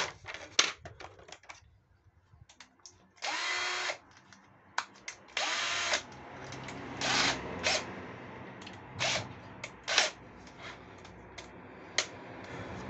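Cordless screwdriver fitted with a Torx bit backing screws out of a Stihl FS90 trimmer, heard as several short whirring bursts of varying length separated by pauses and small handling clicks, close by.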